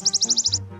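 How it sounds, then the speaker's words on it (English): A wood warbler's song played back from a recording as a lure, a quick run of seven bright, accelerating trilled notes at close range, ending in a brief hush with low background hum. "lure his target with a recording of another wood warbler singing"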